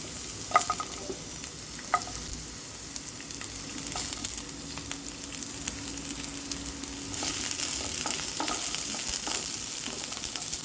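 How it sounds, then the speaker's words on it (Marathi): One sliced onion and five or six garlic cloves fry in one to two tablespoons of oil in a wok, sizzling steadily with occasional stirring clinks, and the sizzle grows louder toward the end. "तर आता कढईत टाकते 1 ते 2 टेबलस्पून तेल आणि याच्यातच आपण कांदा आणि लसूण भाजून घेणार आहोत।"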